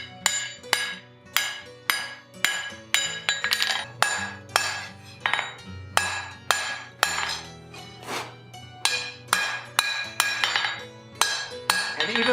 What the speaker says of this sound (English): the hammer is coming in at corresponding angles to try to create a bevel